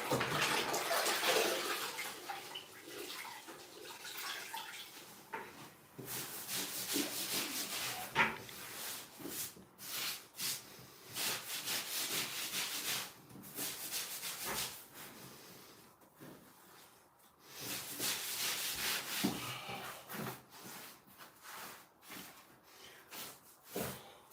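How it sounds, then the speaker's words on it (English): Grout being scrubbed in a tiled shower, a long run of repeated wet brushing and scraping strokes in uneven bursts with short pauses, close and moderately loud, with water sounds in the mix. "scrubbing motion."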